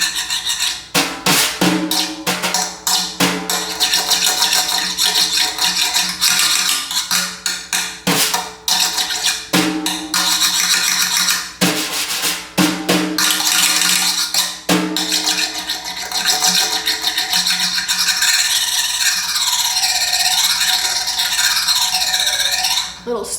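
Drum brushes scrape across the metal lugs of a drum, making a continuous raspy rattle broken by sharp clicks, with whistling, sweeping scrapes near the end, loud and close.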